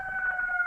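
Distant siren, heard as a faint steady wailing tone over low background noise with no speech, lasting under a second.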